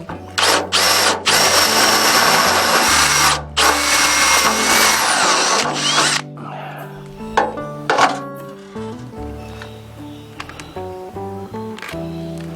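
Power drill re-drilling a stripped threaded hole on an Austin Healey 100/4, loud whining bursts in several long runs with brief stops, then fading into quieter clinks and tool handling.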